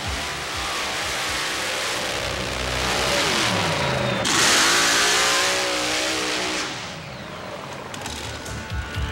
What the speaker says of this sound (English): An all-aluminum 588 cubic inch nitrous-burning engine built by Jerry Janke